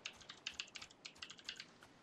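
Keys clatter on a computer keyboard as a Sims 4 cheat is typed in: a quick, uneven run of soft, close clicks with brief pauses, and no talking.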